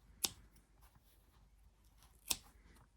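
Scissors snip yarn tails on a crocheted amigurumi, giving two sharp, close cuts about two seconds apart over near silence.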